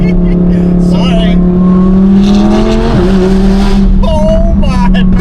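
Audi R8 engine revving hard with a steady high drone that swells and dips, followed by crackling exhaust pops near the end, loud and close, with people talking over it.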